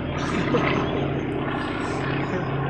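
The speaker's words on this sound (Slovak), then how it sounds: "Čo to za lietadlo?" Propeller airplane passing overhead, a steady droning engine hum that holds loud and even throughout.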